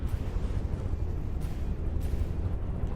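Missiles strike and burst against a ship in the naval combat game From the Depths, a dense, continuous low rumble of overlapping blasts with a couple of sharper bright hits, loud and unbroken throughout.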